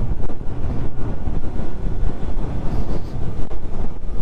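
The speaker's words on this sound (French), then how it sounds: "il y a toujours un peu de vent, moins qu'hier, mais il y en a" Wind buffets a microphone outdoors near a small countryside village, a loud, continuous low rumble with gusty fluctuations and no voices.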